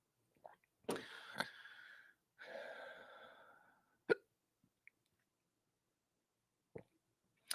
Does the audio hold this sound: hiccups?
yes